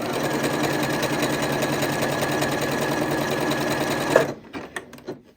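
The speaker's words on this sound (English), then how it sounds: "So I'm going to start stitching" A Janome Horizon Memory Craft 8200 QC sewing machine stitches at a fast, steady mechanical whir for several seconds, then stops abruptly, followed by a few faint clicks.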